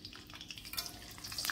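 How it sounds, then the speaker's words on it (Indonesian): Whole shallots and garlic cloves fry in hot oil with a steady, close sizzle and some soft stirring scrapes, with no voices. "Goreng juga bawang merah dan bawang putih utuh."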